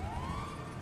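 A police car siren in the video game GTA V wails steadily with one slow rising sweep, loud and close, filling the whole short moment with no talk over it.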